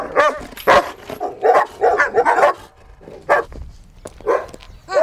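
Dogs bark in repeated sharp bursts close by, with a few whimpers and yips between the barks.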